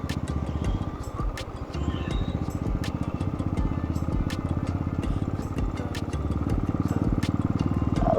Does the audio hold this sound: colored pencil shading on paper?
no